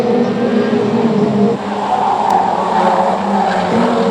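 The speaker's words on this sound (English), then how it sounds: "Dignan and Henderson tangle" Stock rod race cars skid and tangle on the Cowdenbeath Racewall track, engines roaring loud and continuous with tyre scrub and squeal, no voices heard.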